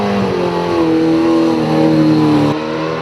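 A race car at a six-hour relay race pulls away at high revs, a loud, near engine note climbing steadily through gears for a few seconds before the pitch drops as it shifts.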